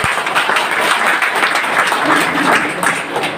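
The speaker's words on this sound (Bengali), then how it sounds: "একবার জোরদার হাত তালি হোক।" An audience at a business presentation in Chandrakona bursts into loud, sustained, dense clapping close by, with faint voices underneath.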